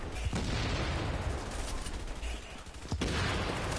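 Dense, continuous gunfire and heavy explosive thumps in The Division, loud and close throughout, with a couple of sharper blasts standing out.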